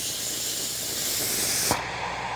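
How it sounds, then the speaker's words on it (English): Steady, loud hiss of steam streaming from a Shark steam mop used on floors, continuous and close before cutting off abruptly near the end, leaving a quieter residual rush. "Now the steam's really coming out."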